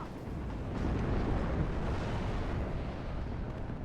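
An SU-25 jet being downed by an I-Hawk missile in WARNO, a sustained roaring, rumbling blast that swells and holds steady across the whole moment.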